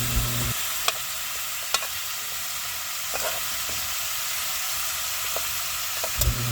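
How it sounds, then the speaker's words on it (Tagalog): Chicken feet sautéing with aromatics in a pan, a loud continuous sizzle with occasional sharp clicks of a utensil scraping and stirring, steady throughout. "Igisa natin ng bahagya yung chicken feet para manuot yung lasa ng mga aromatics"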